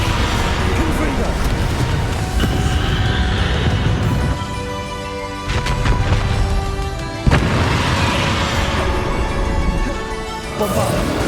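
Confringo fire spell blasts in Hogwarts Legacy on Xbox One make loud, dense booming bursts and rumbling impacts, layered with continuous game noise and a voice talking.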